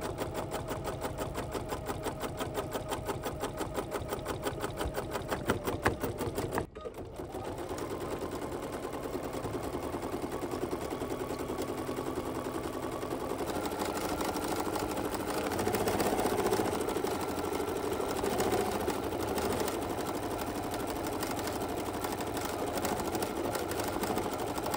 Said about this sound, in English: I'm gonna start off like I've been starting off a lot of these, with a basting stitch, just to hold that fabric to the stabilizer.